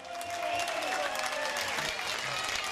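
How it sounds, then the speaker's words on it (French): A crowd claps and cheers at a jazz competition stage at the Nice Jazz Festival, with a thick, continuous wash of applause and a few voices ringing out over it. "Ça mérite encore plus d'applaudissements"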